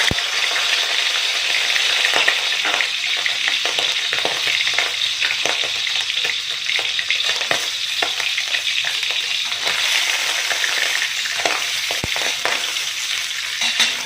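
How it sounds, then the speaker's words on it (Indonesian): Shrimp frying in oil in a wok for Aceh-style mie goreng, giving a loud, dense, unbroken sizzle and crackle with occasional light scraping stirs and a couple of sharp taps, and no voices. "Jadi udangnya ditumis dulu."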